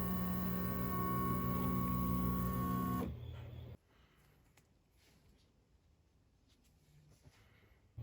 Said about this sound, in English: I'm going to start off by 3D printing a sink.